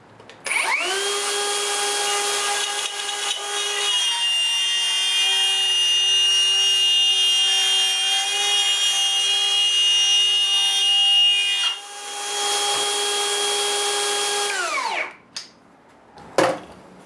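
A Metabo HPT cordless 2-1/4 HP router with a spiral upcut bit cuts red oak. Its high whine spins up, holds a loud, steady pitch through the cut, dips briefly, then winds down to a stop.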